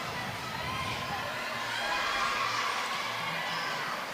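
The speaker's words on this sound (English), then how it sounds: "Crowd loves it." A crowd at a college gymnastics meet cheers, a broad sustained roar of voices and shouts in a large arena, steady and fairly loud throughout.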